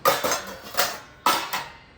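Dishes, pots and utensils clatter and clank while being washed by hand at home, with several sharp metallic impacts in an uneven rhythm, close and fairly loud with no talking.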